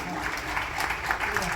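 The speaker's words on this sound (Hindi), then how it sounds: "एक बार जोरदार ताली के साथ मैं गुरुदेवला मंच में आमंत्रण देवाते हैं" An audience claps briefly and loudly as the poet Shri Rameshwar Vaishnav is welcomed onto a stage at a Hindi poetry gathering. Mixed voices blend into the short, busy clapping.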